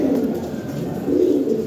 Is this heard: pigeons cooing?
yes